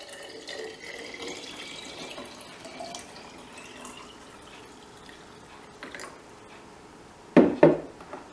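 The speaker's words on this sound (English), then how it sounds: "Add the water and then give it a good stir" Water is poured into a jug of sliced lemons, limes and sugar, a faint, steady trickle that ends in two louder splashing bursts.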